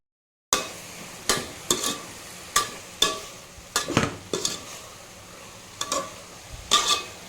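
Spinach (keerai) sautéing in a pan is stirred with a spatula scraping up from the bottom, about a dozen sharp, irregular scrapes and clacks over a soft sizzle, close by with no voices.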